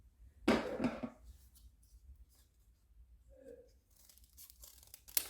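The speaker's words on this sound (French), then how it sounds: "Vous avez juste ces parties du haut qui dépassent que on va couper." Paper being cut to trim the top edges: a short, crisp burst of cutting and tearing near the start, followed by faint rustles and small handling sounds in a quiet room.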